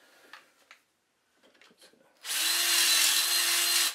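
A power drill with a 5/16 bit boring during a go-kart fuel pump install: faint handling clatter and rustle, then a loud, steady, high whine for about a second and a half, close by.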